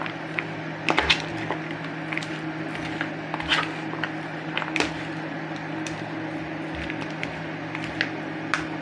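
A chili mixture being stirred while cooking, with a steady background hum broken by repeated soft scrapes, knocks and squishy clicks of the spoon against the pan.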